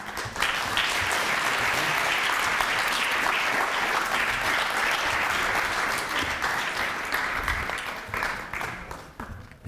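A conference audience at a plenary panel discussion applauds the panelists, sustained full-room clapping that holds steady for most of its length before thinning and fading near the end.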